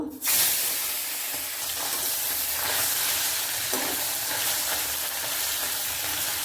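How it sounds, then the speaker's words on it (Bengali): Tangra fish drop into hot oil in a wok, setting off a loud, steady, close hiss and sizzle that holds evenly throughout without any talk. "তেলটা বেশ ধোয়া উঠে গেছে, এখন মাছগুলি দিয়ে দেব"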